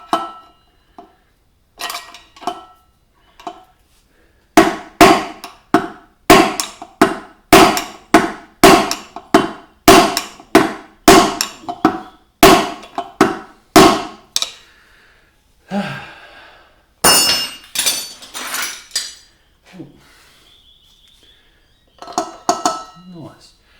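Old screwdrivers prying the rear wheel bearings out of a Honda CBR250R MC19: sharp metallic clanks and taps come in irregular bursts, loud and close, with quiet gaps and some breathy sounds between them.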